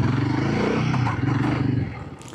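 A Royal Enfield Guerrilla 450 motorcycle pulls away in first gear, its steady low engine drone close and loud for about two seconds, then dropping off as it moves on.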